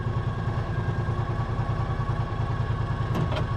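An American Landmaster L5 UTV running in four-wheel drive, its engine giving a steady, rhythmic mid-pitched chug with some clatter, close and continuous, with no speech.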